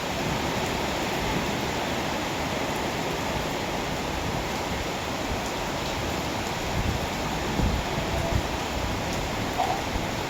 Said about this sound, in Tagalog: Ang ulan ngayong summer.